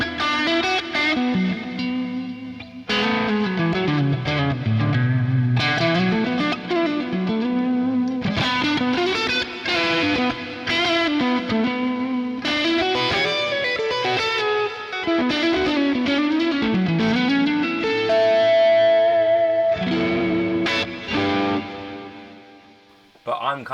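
Electric guitar run through a simulated 4x12 Cali V30 cabinet with no high cut sounds bright and driven, playing a continuous melodic line with bends and chords, loud and close, with no talking.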